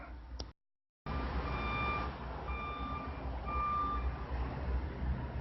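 Repeated high-pitched reversing beeps from a Spectrum vehicle, heard from four stories up, evenly spaced over a steady rumble of engine and traffic noise, after a brief silent gap.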